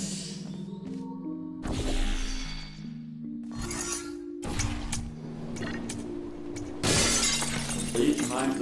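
Glass shatters several times in Spacebase Alpha, each a loud crash spilling into tinkling shards, with quieter gaps and a voice speaking between the breaks.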